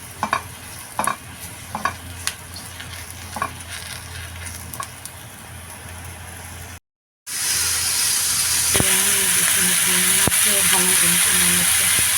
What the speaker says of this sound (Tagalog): ako naman yung mushroom hanggang sa masunog-sunog siya ng konti